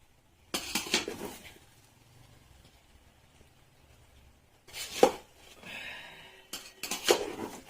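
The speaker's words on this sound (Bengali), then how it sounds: "এখন আমি ভালো করে নাড়া দিয়ে এটা একদম চাপা দিয়ে দেবো।" Biryani being stirred in a metal pot and then covered, with a few separate bursts of scraping and clanking from the spoon and lid against the pot, separated by near silence.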